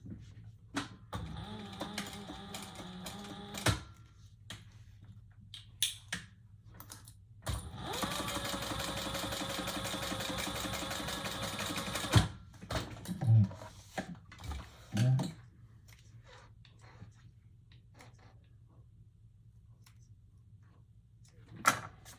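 Sewing machine stitching two gusset pieces of a bag together, a steady buzzing run of several seconds in the middle, with shorter stitching bursts and faint handling noises around it in a quiet room.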